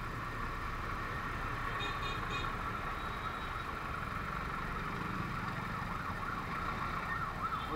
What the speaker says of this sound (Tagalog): Ayan na yung ambulansya sa Andagan.